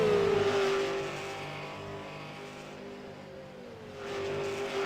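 Race cars on an oval at Phoenix International Raceway roar through turn 3, their high engine whine sustained and gently shifting in pitch as the pack sweeps past at a distance.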